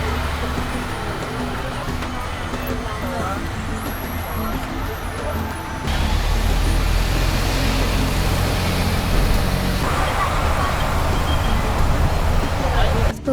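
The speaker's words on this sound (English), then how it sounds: "Pulling into the bus terminal." A bus pulls into a bus terminal amid traffic, its engine rumbling low and steady while road noise and nearby vehicles hum around it, the drone growing louder partway through.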